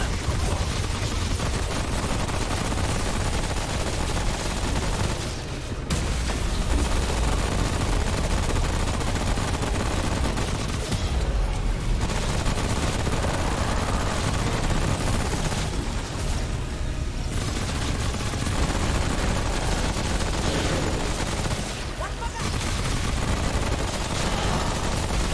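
Repeated gunfire in the video game Remnant: From the Ashes, loud, dense and continuous bursts with booming blasts throughout, with brief lulls.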